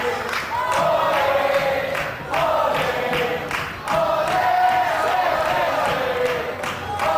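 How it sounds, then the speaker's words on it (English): Wrestling fans at an FWA Academy show chant a wrestler's name in loud rhythmic bursts, with crowd noise and clapping between the chants. "the fans, like those in a stadium, chanting Ollie's name loud and raucously, clapping as they do so"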